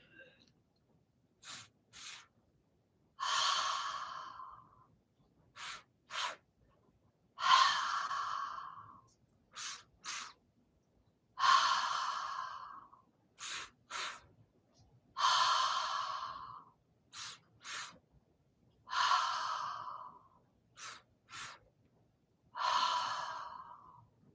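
Deep breathing during a guided breath meditation, repeated in about eight close, even rounds. Each round has two quick inhales followed by a long, airy exhale through the mouth.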